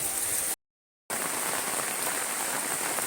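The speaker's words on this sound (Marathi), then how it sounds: "पाऊस खूप जोरात आहे" Heavy summer rain pours down in a dense, steady hiss with no pauses in the falling water, broken only by a brief gap of silence, and no voices over it.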